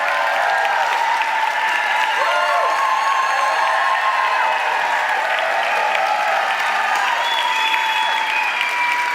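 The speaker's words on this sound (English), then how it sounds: "give him a round of applause" Sustained applause from a large conference audience in a big hall, dense steady clapping with some cheering mixed in, loud and continuous throughout.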